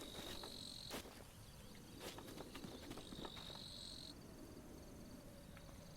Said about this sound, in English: bees aren't happy about that.